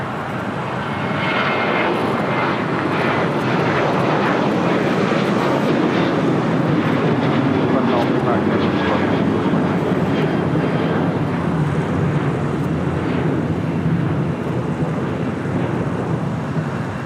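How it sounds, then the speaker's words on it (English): A United Airlines Boeing 787-9 Dreamliner arrives at LAX on runway 24 right, a loud, continuous jet roar that holds steady for the whole stretch with a slight swell toward the middle. "United Airlines flight 1770 coming in from Newark, a 787-9 Dreamliner."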